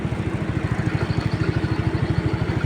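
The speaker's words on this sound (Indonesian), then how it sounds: "Kita matikan dulu motor." A motorcycle engine idles steadily close by, its low, even chugging pulse holding at a constant level throughout, with no voices heard.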